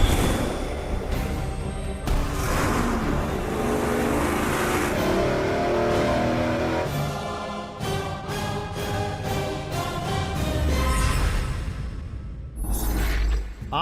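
A COVID 350 V8 engine roars steadily at high revs on a dyno, fitted with header collectors, loud and continuous with shifting engine harmonics and a brief dip before climbing again, no talk.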